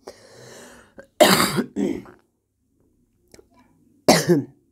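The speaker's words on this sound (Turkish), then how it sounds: "Çok pardon, arada öksürüyorum arkadaşlar." A person coughs a few times in close, separate bursts with short pauses between, including a low throat-clearing sound at the start.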